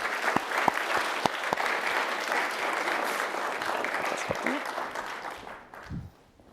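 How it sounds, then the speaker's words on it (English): Sustained applause from an audience for student presenters at the SJSU Grad Slam 2023 research competition, a full room clapping steadily before tapering off at the end. "give them one more big round of applause"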